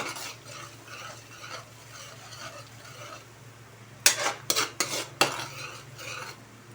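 Garlic and onion caramelizing in a pan: a soft, low sizzle underneath, then a cluster of sharp metallic scrapes and clinks from a utensil stirring against the pan near the end.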